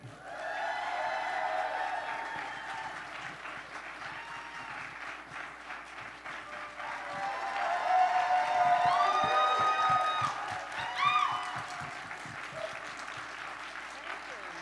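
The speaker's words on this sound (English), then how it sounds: "Please give a warm round of applause for the amazing Susan Sarandon." An audience at Rhode Island Comic Con 2025 applauds for Susan Sarandon, sustained clapping from a crowd with cheers and whoops, swelling louder midway, with voices mixed in.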